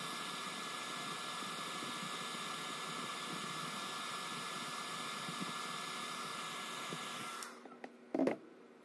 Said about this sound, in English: Using a hair dryer, I'm going to increase the temperature and decrease the humidity.